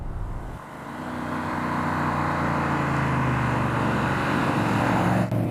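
A right-hand-drive De Tomaso Pantera GT5S drives along with a steady, sustained engine drone, heard close and alone without talk.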